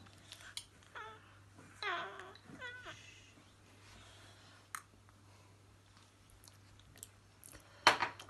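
Crunchy food being chewed up close, a handful of wet, crackly bites and mouth sounds in short irregular bursts over a steady low hum, with a sharp click near the end.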